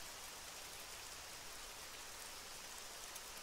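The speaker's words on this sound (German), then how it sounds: "Hocke ich jetzt hier im Regen" Rain falls steadily in the military video game Arma 3, a soft, even hiss of drops with no breaks, heard alone at low volume.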